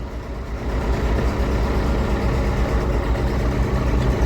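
A David Brown 1690 tractor engine idles at low revs, a steady, loud, deep diesel rumble heard close up and alone, with no talking.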